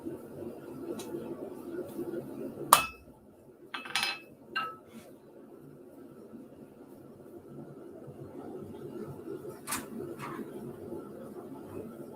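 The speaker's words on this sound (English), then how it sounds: "Just gonna mark this on my anvil." A blacksmith marks a piece of hot metal on an anvil, giving a few sparse, sharp metallic clinks and taps spaced several seconds apart over a quiet workshop background.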